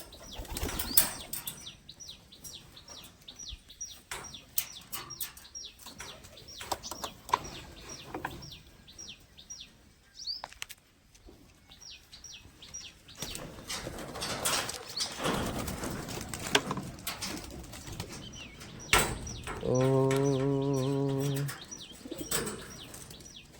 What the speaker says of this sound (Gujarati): कबूतरा है ये तरसा है थोड़ा.